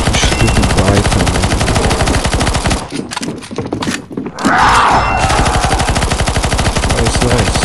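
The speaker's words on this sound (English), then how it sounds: "Keep shooting boss, shoot, kill it." Rapid automatic gunfire in a CS:GO zombie escape map, loud and continuous near bursts that break briefly mid-clip with thuds before the fire resumes.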